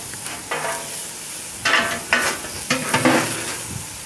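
Bacon-wrapped filet of beef kabobs sizzle on a grill under a closed lid: a soft, continuous crackle punctuated by several louder bursts of spitting fat.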